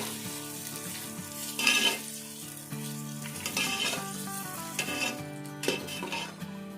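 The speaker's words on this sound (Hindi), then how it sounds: "और अब प्याज को हम हल्का सा फ्राई कर लेंगे और हल्का सा हम गोल्डन करेंगे।" Sliced onions frying in a pan for a homemade desi chicken curry, a steady sizzle broken by a few scrapes and clinks of a spoon stirring against the metal.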